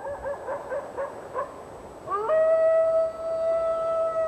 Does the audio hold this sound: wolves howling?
yes